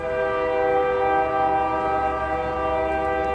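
A train horn blares in a long, sustained chord, loud and steady over a low rumble, holding without a break.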